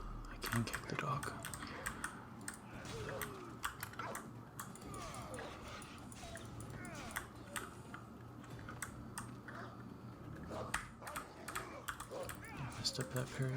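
Computer keyboard keys click and clatter in quick, uneven bursts throughout a session of Assassin's Creed Odyssey, close and fairly soft, with quiet game sounds and soft spoken talk running underneath.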